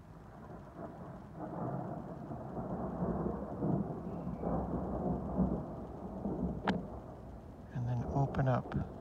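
A thunderstorm rolls on with steady rain and a low, sustained rumble of thunder, joined by a few sharper drops or cracks near the end.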